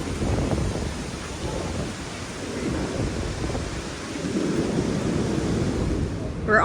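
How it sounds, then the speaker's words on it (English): The American Falls at Niagara, seen from Green Island, send up a steady, loud broadband roar like heavy surf, constant and unbroken throughout with no clear voices. "Where we get American Falls are right there."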